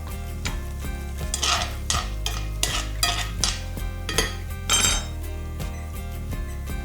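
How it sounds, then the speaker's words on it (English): Onions sauteing in a pan, a steady sizzle broken by repeated metallic scrapes and clinks of a utensil against the pan, close and without speech. "And so I'm just going to throw in the onions here,"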